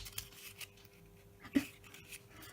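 A husky pants softly nearby in a quiet indoor room, with faint, uneven breaths and one sharper huff partway through.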